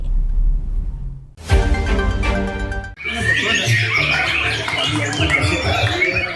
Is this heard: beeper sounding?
no